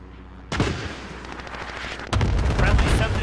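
An allied cluster strike in Call of Duty: Modern Warfare, heard as a sudden loud blast followed by rolling gunfire-like crackle and a second heavier burst of explosions, continuous and dense.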